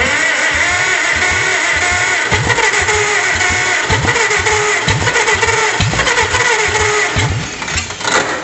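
An old car engine, not heard running before, starts and idles with a rough, loud, continuous rumble and uneven firing pulses, with small throttle variations near the end.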